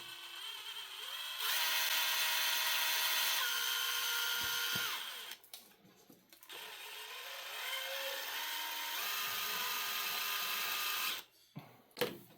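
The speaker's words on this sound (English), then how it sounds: "get this set up, slowly drill" A power drill whirs loudly in long steady runs into a wooden log mount, pitch shifting as it bites, with brief pauses and a few clunks between.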